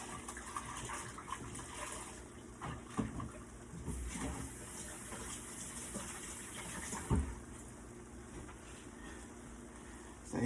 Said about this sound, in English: Wash my hands real fast.